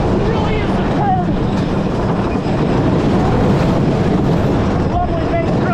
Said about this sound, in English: Gravity Group does put us some very solid water roller coasters.